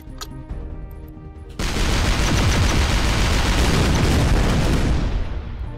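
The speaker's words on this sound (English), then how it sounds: "Have some fireworks." Fireworks weapon blasts in the artillery video game ShellShock Live: a few sharp pops, then a dense, loud crackling barrage that holds steady for several seconds before tapering off.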